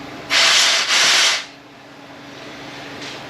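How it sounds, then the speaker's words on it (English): Two loud bursts of compressed air blasting from an air blower nozzle through a transmission pulley part, hissing for about a second each before fading into quiet shop background. "So when you shoot air to this, it's going to squirt out there"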